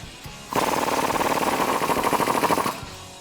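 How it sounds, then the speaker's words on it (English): Rapid rattling burst from a power tool on an 18mm socket loosening a Jeep Wrangler JK lower shock bolt, a loud buzzing hammer-like run of about two seconds between quiet pauses. "Next, we can remove our lower shock bolt using an 18mm wrench and socket."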